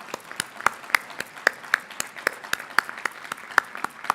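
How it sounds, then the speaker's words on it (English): Sparse, slightly uneven clapping from a few people at a conference session, crisp individual claps sounding alone at a quiet, moderate level. "So please give a big round of applause to"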